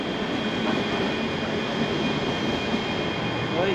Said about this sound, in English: And here it comes, our first class bullet train.